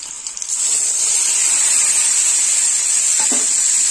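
Spice paste hitting hot oil in a pan while cooking spinach curry, giving a steady, bright sizzle that swells quickly and holds loud and even for several seconds.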